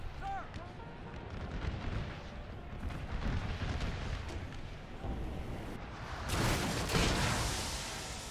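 Artillery gun crews firing cannons in a Napoleon Total War Gettysburg battle, faint distant booms and rumbling volleys rolling under battlefield noise, with a heavier blast swelling near the end; someone talks over it.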